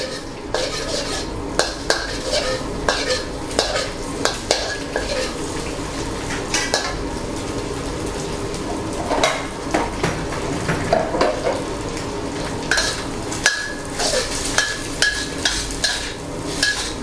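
Eggs being beaten and stirred with luffa in a frying pan, with repeated utensil clinks and scrapes against the pan over a steady sizzle, close and continuous with no talking.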